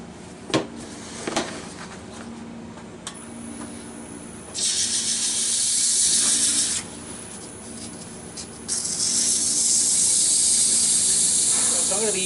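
Small yew hollow form spinning on a woodturning lathe while 220-grit sandpaper is pressed against it, producing loud steady bursts of abrasive hiss a few seconds long, separated by quieter gaps with light handling knocks.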